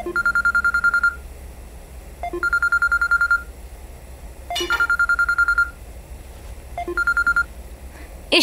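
A telephone rings for an incoming call in repeated bursts of warbling electronic tones, four rings separated by short pauses, loud and close with no talk.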